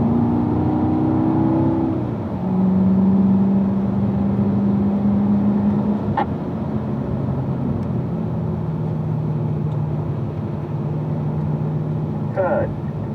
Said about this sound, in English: Downshifts are sounding good.